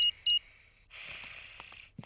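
Two quick electronic beeps from a cartoon house alarm being switched back on, then a soft hissing, breathy rustle and faint taps.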